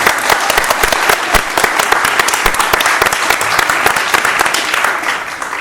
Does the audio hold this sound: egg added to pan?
no